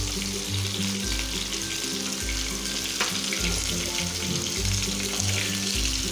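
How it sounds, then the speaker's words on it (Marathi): Bitter gourd slices frying in oil in a pan, a steady loud sizzle running throughout with an underlying low rhythmic hum, no voices. "इथे आपल्याला कारली छान अशी तेलामध्ये लालसा रंगाची होईपर्यंत परतून घ्यायची आहे"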